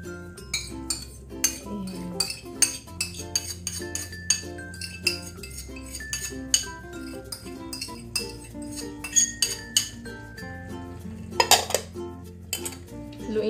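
A metal spoon stirs chicken menudillo in tomato sauce inside a pot, scraping and clinking against the pot in a steady run of sharp taps, with a few louder knocks near the end.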